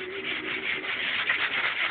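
Hand sanding by hand gives a steady, scratchy rubbing hiss that carries on evenly for about two seconds, close up and with no talking.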